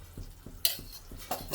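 Melted jaggery stirred in a pan for sesame chikki: soft, regular scraping strokes roughly every third of a second, close and quiet, with two brighter metallic clinks of the spoon against the pan.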